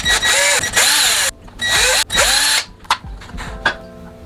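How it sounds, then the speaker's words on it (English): A power drill, fitted with a 7/64 bit, bores holes into a pump stock attachment on an Aeon Pro pump kit. It sounds as several loud, whining bursts, each broken by short pauses, with the motor winding down near the end. "just drill your pilot holes or mark it with the screwdriver, and then drill it out with the 7/64 afterwards."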